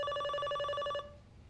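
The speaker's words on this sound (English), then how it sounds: "Oh, is that a door chime?" Door chime from a television episode of The Sopranos, a single electronic tone ringing steadily for about a second and then cutting off, fairly quiet in the background with no one speaking.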